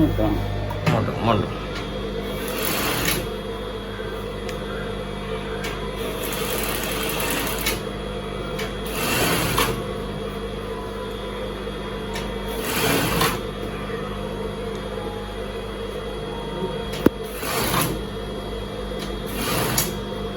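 A sewing machine stitching fabric runs in bursts, its motor whirring steadily between pauses, close and prominent, while people talk over and between the runs.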